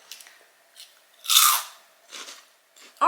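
Crunchy seaweed-flavoured Bugles corn snacks from an Asian supermarket are bitten and chewed close to the mic, with one sharp loud crunch in the middle framed by softer chewing crackles and brief pauses, and no talk.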